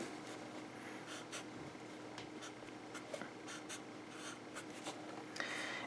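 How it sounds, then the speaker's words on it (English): Handwriting on a surface during a math lesson, steady scratchy strokes in short bursts with brief pauses, close and clear over a faint background hum, no talking. "So I'll write that here."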